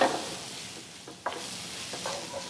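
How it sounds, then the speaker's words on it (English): Food being stirred in a pan coated with olive oil while making a white bean and turkey polpettone, with soft scraping strokes over a low sizzle, close and quiet. "And just to stir it to make sure it's coated with the olive oil"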